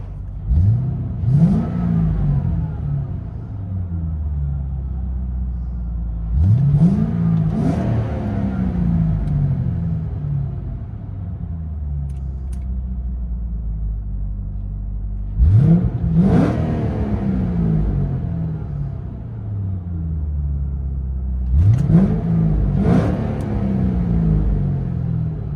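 A 2006 Ford Mustang GT 4.6L V8 with Valvetronic Designs mufflers, heard from inside the cabin, revs in four separate bursts that each swell and fall back to a low rumbling idle.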